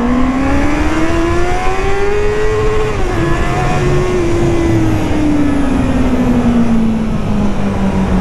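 Honda CB650R motorcycle engine held near its rev limiter, a loud steady whining drone that climbs in pitch then slowly sags, heard from on board with no voices.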